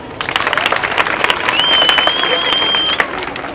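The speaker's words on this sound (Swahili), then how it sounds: "Piga makofi." A church audience gathered for a road-safety talk on children breaks into close, dense applause, with a crowd murmur and a brief whistle-like tone rising through the clapping.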